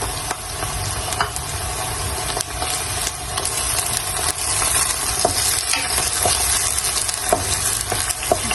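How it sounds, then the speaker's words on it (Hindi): Tomatoes and green chilies fry with pink onions in a pan, making a continuous close sizzle with scattered crackles and stirring scrapes. "ये प्याज जो है वो काफी पिंक हो चुकी है, तो इसमें बस अब मैं डाल दूंगी ये टमाटर और हरी मिर्चें"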